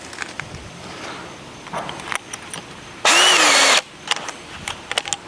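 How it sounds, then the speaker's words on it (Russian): A short, loud burst of a DeWALT DCD1007 hammer drill-driver with an 8 mm Milwaukee bit drilling into a concrete curb stone lasts under a second, set apart from quieter clicks and handling noises before and after. "Тест ударного шуруповерта будет неполным без сверления бетона"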